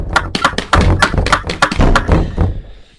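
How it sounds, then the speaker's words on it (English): A trapdoor in a floor leading to a basement bangs open amid a rapid run of heavy, hollow wooden thumps and knocks, loud and close, fading out at the end. "that door in the floor just flew open"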